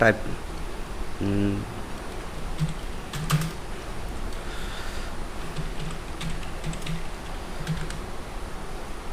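Someone types on a computer keyboard, with soft, quick key clicks coming in small bursts at close range over a steady background hiss and a faint voice.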